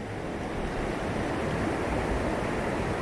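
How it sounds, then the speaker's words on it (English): Water rushes over a creek spillway in a steady, dense roar, loud and continuous with no pauses or voices. "I know it's loud, but we're at a spillway"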